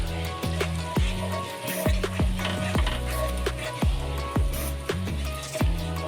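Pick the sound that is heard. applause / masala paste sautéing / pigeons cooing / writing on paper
masala paste sautéing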